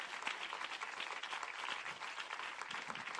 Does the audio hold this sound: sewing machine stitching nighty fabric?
no